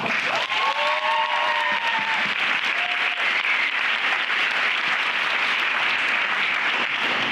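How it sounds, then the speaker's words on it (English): Steady applause fills a panel discussion audience at an event on suicide awareness, a dense continuous wash of clapping held at even loudness throughout, with a few faint whistles early on. "So round of applause."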